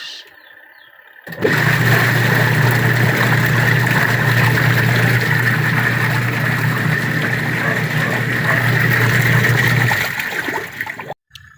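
A washing machine motor running in reverse hums and churns steadily for several seconds with sloshing water, starting abruptly and winding down at the end; the machine has a fault where it stops spinning suddenly.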